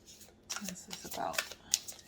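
Tarot cards being shuffled by hand in short papery riffles and flicks, close and fairly quiet, with soft pauses between bursts.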